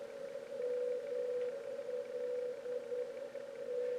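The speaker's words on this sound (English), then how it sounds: "ML, which is an NDB about 450 miles away from here." A distant NDB radio beacon comes through a low-impedance loop antenna receiver as a faint, steady mid-pitched tone that holds unbroken over soft static hiss.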